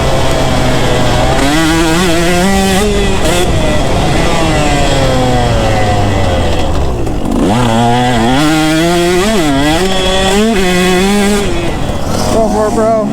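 KTM 125 and Husqvarna 125 two-stroke dirt bikes revving loudly and continuously, their engine pitch climbing and falling in repeated rises as they accelerate and let off, with nearby talk mixed in.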